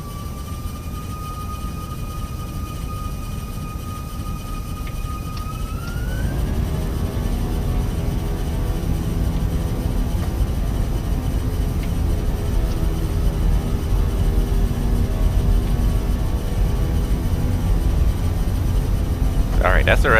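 Engines of a Fenix A320 jet spooling up for takeoff in Microsoft Flight Simulator, a steady loud roar with a whine that rises and settles into a sustained drone, continuing throughout.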